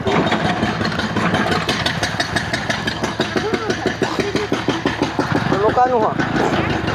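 A motorcycle engine runs at a steady mid-pitched idle on a rough village road, its sound sitting under continuous nearby talk.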